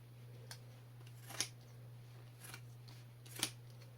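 Raptor trauma shears snip cleanly through fabric and fleece, with a few short, crisp cuts spaced apart against a faint, quiet background hum.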